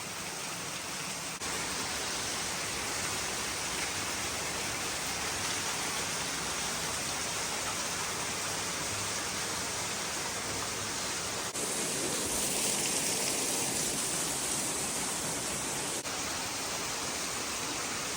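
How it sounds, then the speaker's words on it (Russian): Waterfall roaring up close, a dense, loud, unbroken rush of falling water filling the scene, swelling slightly in intensity partway through. "Ну вот, впритык подошел к этому водопаду."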